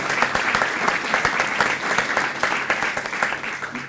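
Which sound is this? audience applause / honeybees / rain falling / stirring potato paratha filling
audience applause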